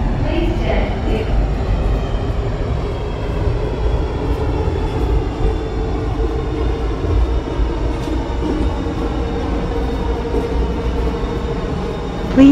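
An airport transit train pulls away from a station toward the international terminal, with a loud steady rumble and a slowly rising electric motor whine throughout.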